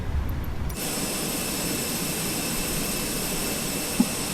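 Fenix A321 with IAE jet engines in Microsoft Flight Simulator 2020, a loud steady engine roar with a high whine that starts abruptly and holds constant without talk.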